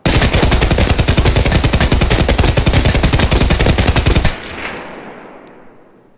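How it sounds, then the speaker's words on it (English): Fully automatic gunfire from a 50-round magazine in Escape from Tarkov: a rapid, evenly spaced burst of loud shots runs for about four seconds, then stops abruptly and leaves a fading echo. "I have isolated the time in which I am firing the gun"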